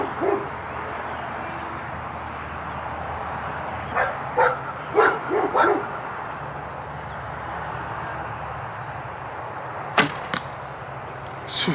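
A Gold Tip arrow is loosed from a bow and strikes a target with a sharp crack, set against steady outdoor ambience and scattered dog barks in the middle of the clip.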